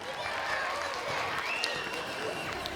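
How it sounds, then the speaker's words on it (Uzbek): Audience applause at a children's kindergarten show contest, a short burst of dense clapping from a crowd in a hall. "Qarsaklar."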